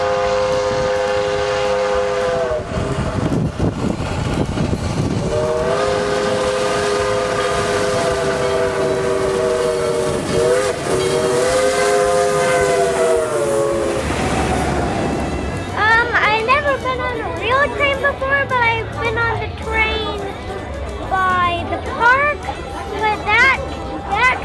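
Steam locomotive 4501 runs on its line, sounding a long wailing steam whistle in several drawn-out blasts over a continuous rumble, with a narrator's voice and chuffing, clanking sounds following.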